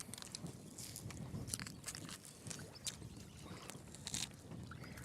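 Close, crisp crunching of edible wild seeds being chewed, in irregular bites with soft crackles between them.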